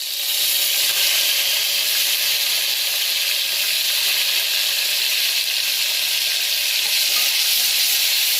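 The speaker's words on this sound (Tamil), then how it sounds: "வெங்காயத்தை போட்டு நல்லா வதக்கிக்கோங்க." Onions sauté in hot oil in a frying pan, giving a steady, loud, hissing sizzle that holds evenly throughout with no voices over it.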